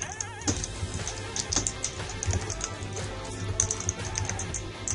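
Fingers type a password on a computer keyboard, a close run of irregular quick key clicks and taps spread over a few seconds, with no talk.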